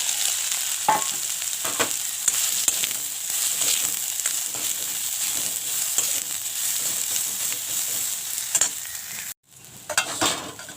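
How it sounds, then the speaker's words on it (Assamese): Soybean chunks mixed with turmeric fry in hot oil in a kadai, a close, steady sizzle broken by scraping stirs and crackles, briefly cut off near the end before resuming, with no talking. "এতিয়া মই কেৰাহীত তেল দি দিলোঁ আৰু এতিয়া সয়াবিনখিনি ফ্ৰাই কৰি ল'ম"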